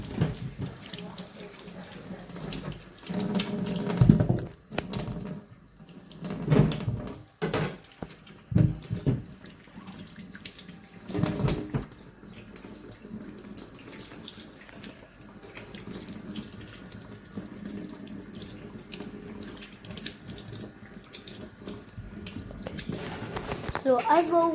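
Kitchen tap water running steadily into a sink while potatoes are washed by hand, a continuous splashing stream broken by clunks and handling noises, with people talking over it.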